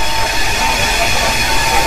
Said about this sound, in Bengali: আমাদের ট্রেন এখন যাচ্ছে লালকেল্লার একদম পিছন দিয়ে।